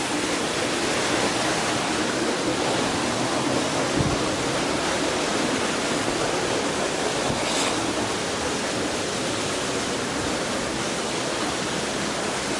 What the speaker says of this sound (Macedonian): Едва го најдовме водопадот